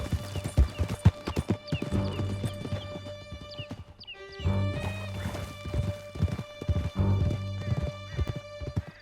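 A horse in Red Dead Redemption 2 clops along in a quick galloping rhythm of hoofbeats, with a loud whinny in the middle and a soft voice now and then under the hooves.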